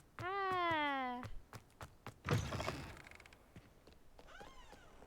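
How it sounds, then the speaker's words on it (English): A cat in the Hogwarts Legacy video game gives two clear meows, a long one first and a shorter one later, with clunks and a brief mechanical rumble in between. "Game of the Year edition, you can pet a cat."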